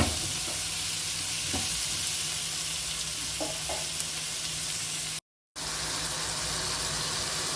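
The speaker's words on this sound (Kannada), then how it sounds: "ಟೊಮೆಟೊ ಕೂಡ ಚೆನ್ನಾಗಿ ಎಣ್ಣೆಯಲ್ಲಿ ಬೇಯಿಸಿ ಸ್ವಲ್ಪ ಉಪ್ಪು ಹಾಕ್ಬಿಟ್ಟು ಬೇಯಿಟ್ಕೊಳ್ತೀನಿ." Chopped tomatoes fry in hot oil with salt for a mutton masala curry, giving a steady, close sizzle with soft scraping stirs throughout and a short break near the end.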